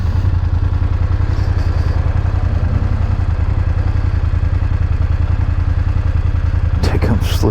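A 2024 BMW F900GSA motorcycle engine runs steadily and loud throughout while riding, with a constant throbbing drone and a brief clatter near the end.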